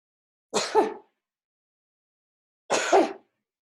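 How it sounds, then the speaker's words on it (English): Two short, sharp sneezes, each a sudden burst of breath, separated by a couple of seconds of silence, close to the microphone. "I'm so freaked out every time I sneeze."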